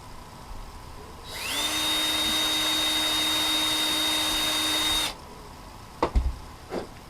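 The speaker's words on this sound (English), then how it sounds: "I think I'll give you one more hole drill there" An electric drill whirs steadily for about four seconds at close range, drilling a hole in plastic for an RC car wheel flare, then stops, followed by a few sharp clatters.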